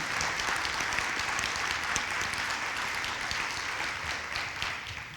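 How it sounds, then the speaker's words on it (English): A large audience at a San Angelo State of the City address applauds a beef processor's donation; thick, continuous clapping fills the hall at a steady level, tapering slightly toward the end. "I feel like they deserve an applause for that"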